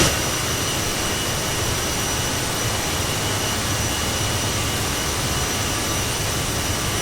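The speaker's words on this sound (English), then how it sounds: "We have some engine sound, which I will turn down again" Steady, loud roar of a CRJ 1000 jet engine in Microsoft Flight Simulator after takeoff, continuous and unbroken with a high whine on top, no voices.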